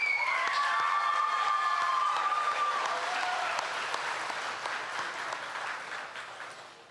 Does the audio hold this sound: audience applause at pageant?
yes